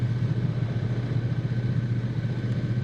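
A Triumph Bonneville T100 motorcycle rides down a steep mountain road, its engine giving a steady, loud, low drone close to the microphone with no speech.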